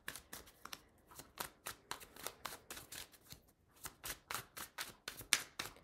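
Tarot cards shuffled by hand in quick, evenly spaced bursts of sharp, close riffles and flicks, repeating steadily with no talking.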